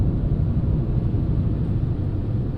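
A car's failing wheel bearing gives a steady low rumble while driving on pavement, with continuous road noise and no talk.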